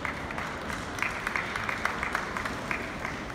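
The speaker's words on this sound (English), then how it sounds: "Big round of applause for her." Steady applause from an audience at a horse-training demonstration, a dense patter of clapping at moderate level with a few sharper claps standing out, no talk over it.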